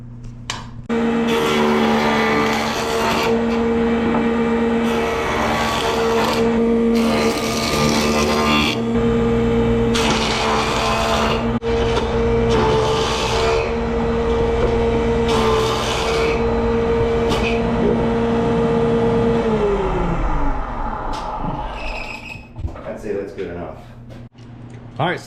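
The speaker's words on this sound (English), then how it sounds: "So we're just gonna push it through the jointer, try to get it to rough shape" A jointer planes a cherry log in loud, repeated whining bursts of cutting noise over a steady motor drone, close by, before the machine spins down and falls quiet near the end; a voice speaks at times.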